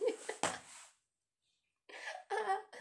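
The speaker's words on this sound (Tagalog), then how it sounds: "Ubo ka na naman." A person coughs in short bursts, a couple of close harsh coughs followed by a pause and then several more, loud and near with no talk over them.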